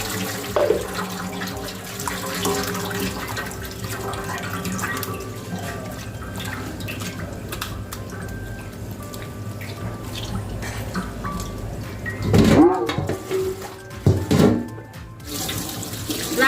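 Pork liver rinsed under a running tap in a sink until the water runs clear, a continuous splashing flow with drips and louder sloshing bursts near the end, close by.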